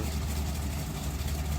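A 1930s Bellanca Aircruiser aircraft engine idles with a steady, low, continuous rumble.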